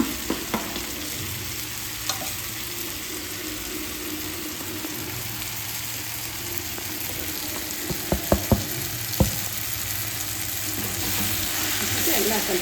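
Turmeric, red chilli, coriander and sambar powders fry in oil for an Andhra-style fish curry, a steady close sizzle with a few sharp stirring clicks partway through.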